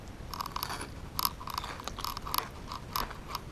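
Close, crisp crunching of fire-cooked fish being chewed, a quick series of sharp bites and crackly chews with no talking.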